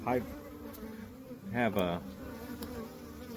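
Steady buzzing of honey bees in a hive during a mid-winter check, continuous and close, with a few brief voiced bursts partway through.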